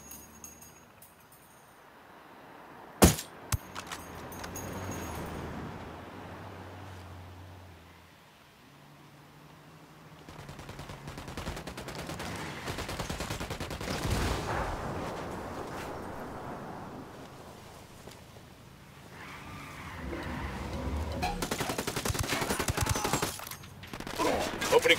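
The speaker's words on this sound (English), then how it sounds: "Opening fire." Bursts of gunfire in Ghost Recon Wildlands: a sharp shot early on, then sustained volleys of automatic fire that rise and fall in waves over a steady noisy battle backdrop, with a voice briefly heard.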